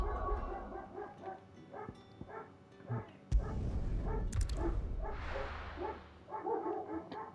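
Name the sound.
dogs barking at a neighbor's cat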